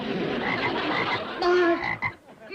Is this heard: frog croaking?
yes